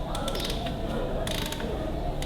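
Ratchet wrench clicking as it backs out the 11/16 back plate bolts on a Ferguson TEA20 tractor, with repeated bursts of rapid metallic ticks at close range, quiet and unaccompanied by talk.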